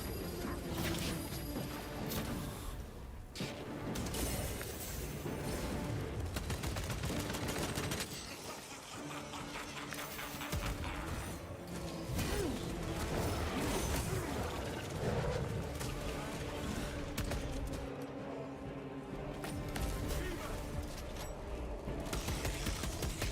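Rapid gunfire and machine-gun bursts from a sci-fi shooter video game in which alien xenos are fought, dense and continuous across the whole stretch with crashes mixed in, a voice occasionally talking over it.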